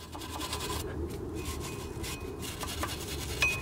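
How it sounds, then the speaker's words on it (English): A metal wire brush scrubs brake dust from a car's brake caliper bracket during a front and rear pad and rotor change, a continuous close rasping scratch with short pauses between strokes. "you can get a metal wire brush in here and get some of that brake dust out of there"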